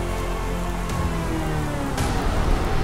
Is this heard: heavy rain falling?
yes